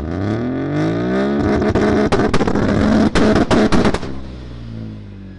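A 3-rotor rotary engine revs hard with a strong, open exhaust, sweeping up in pitch before a burst of sharp crackling pops, then dropping back to a rough idle, loud and near.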